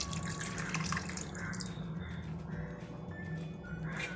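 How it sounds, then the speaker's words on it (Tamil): Water poured into a pot of egg biryani in a home kitchen, a faint, continuous splashing and trickling with scattered drips, close by and without talk. "1/2 ஆளாக்கு தண்ணி இதில் கொஞ்சம் சேர்த்துக்கலாம்."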